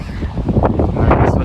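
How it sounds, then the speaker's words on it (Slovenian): Gusty bora wind buffets the microphone on a cloudy hike along a former narrow-gauge railway route between Trieste and Poreč, producing a loud, continuous low rumble with uneven gusts that never let up. "Vremenske razmere so kar, imamo oblake, pa imamo burjo."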